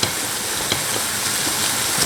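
Minced meat being mashed with the back of a spoon and stirred into a simmering vegetable sauce, a steady close sizzle with faint scraping strokes and no voices.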